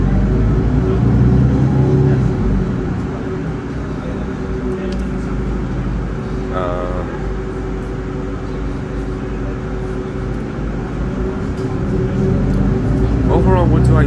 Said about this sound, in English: It's a hybrid engine, so of course that'll make it quieter, especially when the engine switches off.